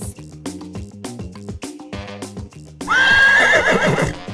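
A horse neighs loudly and alone in one long shrill whinny with a descending tail, after a stretch of bouncy children's music.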